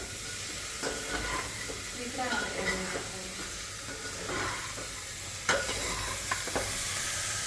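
Khichdi ingredients with freshly added tomatoes and salt are stirred in a hot pan for a soya chunk dal khichdi, giving a soft sizzle under scraping spoon strokes and a few sharper clinks against the pan.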